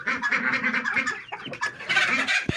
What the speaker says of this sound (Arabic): دي الفرخه الهندي اهي